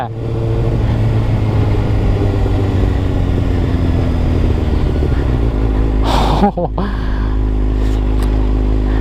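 Kawasaki ZX6R motorcycle with an SBK tune, its exhaust holding a loud, steady high rev up close, then dropping sharply near the end before settling again; people talk underneath.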